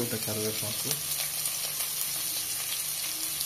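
Onion and curry leaves sizzle and fry in hot oil for homemade upma, a steady crackling hiss close by with a few stirring clinks near the start, no voices.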